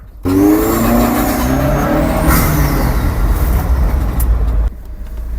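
An Opel Speedster Turbo's engine runs loud and close, revving hard with rising and falling tones before dropping abruptly to a lower, steady drone near the end.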